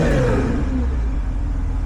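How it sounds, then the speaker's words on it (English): A supercharged Honda NSX engine runs at idle close to the microphone: a steady low rumble with a mechanical whir and light clatter, holding an even level throughout. "that's it running and idling"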